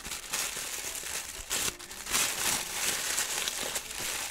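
Paper wrapping around a kalimba tuning hammer being unwrapped, close and crisp crinkling and rustling in irregular bursts with a few sharper crackles, quiet and without talk.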